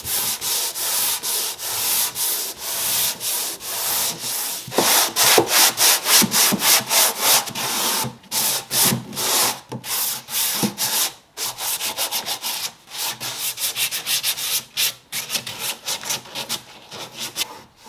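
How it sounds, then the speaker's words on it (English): A hook and loop sander with 120 grit sandpaper works over a wooden dresser, a loud close rasping scrub that starts continuous and breaks into rhythmic back-and-forth strokes later on. "Going in with my hook and loop, I love this thing, and my 120 grit sandpaper."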